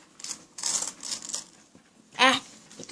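Coins drop into an Aikatsu arcade machine in a few separate bursts of metallic clinking, then one louder, sharper clatter near the end. A little faint talk is present.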